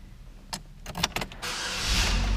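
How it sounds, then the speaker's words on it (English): A Chevrolet Malibu engine cranks and fires up right away, with a few sharp clicks and clunks of controls first. The engine then settles into a steady, close idle hum with no talking. "Car fires up right away."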